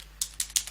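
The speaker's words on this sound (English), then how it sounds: "So if I just type it in" Three quick, crisp keystrokes tapped on a computer keyboard, close and fairly quiet, with no voice.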